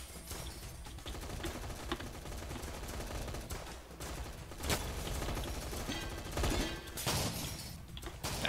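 Gunfire, including shotgun blasts, in the Roblox heist game Notoriety, with dense rattling shots throughout and a few louder booms standing out near the end.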